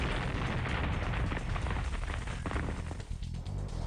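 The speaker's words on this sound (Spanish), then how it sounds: "Con explosivos como para demoler un edificio de 10 plantas." A large mining explosive blast clears rock, heard as a heavy, continuous low roar and rumble of rushing debris, loud and sustained for a few seconds.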